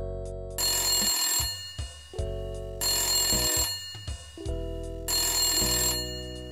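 An unanswered telephone in the Maniac Mansion Mania adventure game rings in three long electronic bursts separated by short pauses, loud and close, with no voices.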